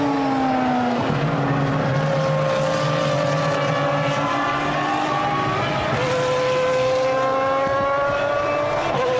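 Formula 1 race cars at the Nurburgring in torrential rain: high, steady engine whine with rising and falling pitch sweeps as cars pass and one comes into the pits, over a constant roar of spray and crowd-like wash.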